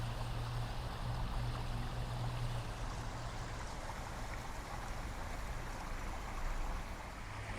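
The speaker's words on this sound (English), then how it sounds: "Beautiful waterfall." A steady, broadband rush of falling water from a park waterfall at Southbank Parklands in Brisbane, continuous and fairly loud without pauses, with no speech.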